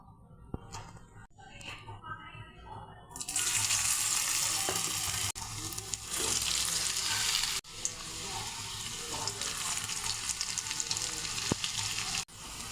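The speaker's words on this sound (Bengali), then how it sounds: "এখন বড়াগুলো আমি অল্প আঁচে ভেজে নেব।" Lentil and rice flour fritters fry on low heat, a steady broadband sizzle that rises sharply after a quiet start and continues loud with brief dips, with no talk over it.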